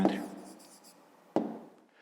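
A pen writes by hand on paper during a fifth-grade maths exercise, two short scratchy strokes about a second apart, close and quiet, with no talk over them.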